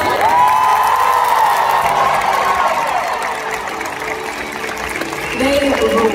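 A big arena concert crowd at TD Garden in Boston claps and cheers, a broad roar with a long sustained whoop near the start, easing slightly midway before swelling again.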